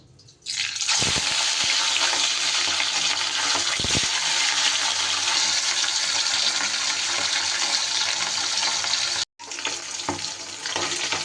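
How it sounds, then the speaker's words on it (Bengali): Steady, loud hissing sizzle of rohu fish frying in hot oil in a wok, continuous for several seconds with a brief cut near the end. "এবার মাছগুলোকে ভেজে নেব"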